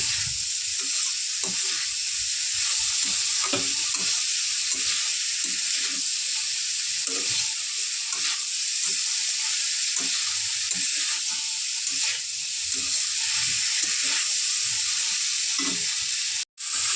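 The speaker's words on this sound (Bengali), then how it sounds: "ভালো করে মশলার সাথে কষতে নেবো এইটা আলু পেঁয়াজটা" Potato and onion sauté with spices in a pan, giving a steady hiss and sizzle under repeated scraping and stirring strokes, close and even throughout, ending with a sharp knock.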